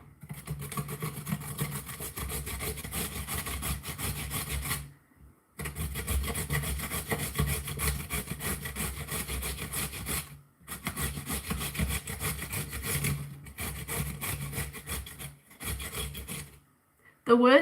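Food is grated by hand in a kitchen with steady back-and-forth rasping strokes, close and loud, in long runs broken by a few brief pauses.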